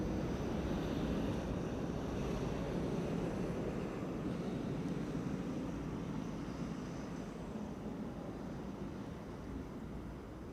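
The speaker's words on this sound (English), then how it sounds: "Air China Cargo Triple has arrived on the scene and it's crossing the runway." An Air China Cargo Boeing 777 taxis across a runway at Amsterdam Schiphol, a low, steady engine rumble heard from a distance, faint and continuous under some wind noise.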